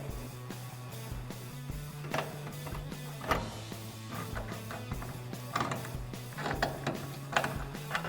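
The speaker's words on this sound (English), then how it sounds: "I'm going to put my 21 millimeter wrench on the bolt head and take this guy off" A 21 mm wrench or ratchet works a bolt loose on a 2007-2018 Chevrolet Silverado or GMC Sierra 1500 pickup during a leveling lift kit install. Irregular, close mechanical clicks and ratcheting ticks sit over a steady low hum, with no talk.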